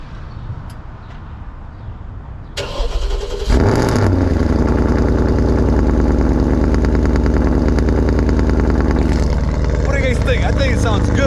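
Porsche Cayenne GTS V8 with a Fabspeed exhaust cold-starting: starter crank, then a loud bark into a high, steady, rumbling fast idle close by, with a voice speaking over it early on.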